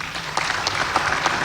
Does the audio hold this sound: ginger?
no